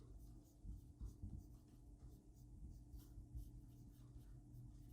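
A pen scratches across paper in short, faint, irregular strokes, close by in a quiet room with a low background hum.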